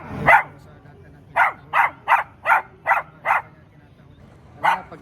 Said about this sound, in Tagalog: Pag may nakitang aso tinatahulan lahat